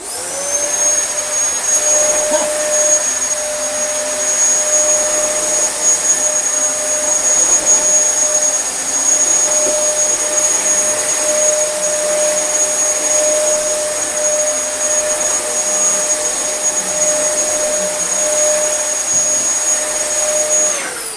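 A Dyson DC24 or DC33 upright vacuum cleaner runs continuously at full power, a loud, steady high-pitched whine with a constant airflow roar, alone and unchanging throughout.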